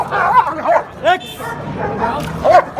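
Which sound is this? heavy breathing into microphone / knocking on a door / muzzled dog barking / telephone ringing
muzzled dog barking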